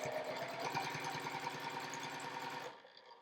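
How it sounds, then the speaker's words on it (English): A sewing machine stitches a quarter-inch seam across quilt fabric pieces, a steady rapid mechanical whir with fast needle pulses running continuously for nearly three seconds before stopping abruptly. "we're gonna bring it over to the needle and sew a 1/4 inch seam across here"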